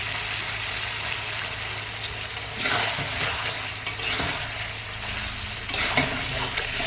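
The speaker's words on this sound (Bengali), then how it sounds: "একটু নাড়িয়ে চাড়িয়ে একটু শুকনো শুকনো করে নেব" Vegetable ghyat stirred in a hot pan to dry it out, a continuous close sizzle with bursts of scraping and stirring, no talk.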